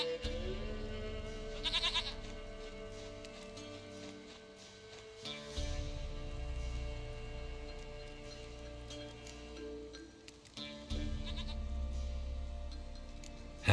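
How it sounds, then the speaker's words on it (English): A goat in The Witcher 3: Wild Hunt video game bleats repeatedly in wavering calls, heard over game ambience and low background music. "Goat of mine, dearest, sweetest goat."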